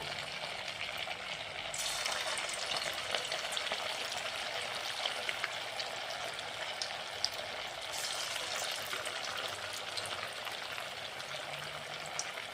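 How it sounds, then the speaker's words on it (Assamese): Potato pakoras fry slowly in hot oil, producing a soft, steady, bubbling sizzle that stays quiet and unbroken throughout, with no talking. "এইটোতো অলপ টাইম লৈ ভাজিব লাগে, যিহেতু লাহে লাহে ভাজিব লাগে।"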